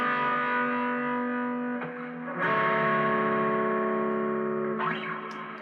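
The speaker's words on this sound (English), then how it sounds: "now for the first chorus, sounds like this." Electric guitar playing the chorus of a song through effects and distortion, sustained overdriven chords changing every couple of seconds, thick and ringing with no talking.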